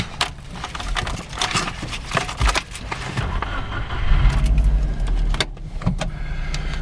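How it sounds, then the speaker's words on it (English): The starter of a 2008 Subaru with a salt and flood damaged salvage title engages with an uneven, clattery grinding and whirring, interrupted by sharp clicks and knocks, close and fairly loud, swelling briefly near the end. "Starter makes a little bit of odd noise upon engagement, nothing horrible."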